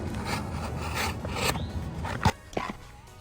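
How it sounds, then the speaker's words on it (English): A wood shake edge for a garden shed roof is trimmed with short rasping, scraping strokes, then a sharp snap and a few knocks close by, with no talking. "I need to trim that because it's going over the edge of the plate"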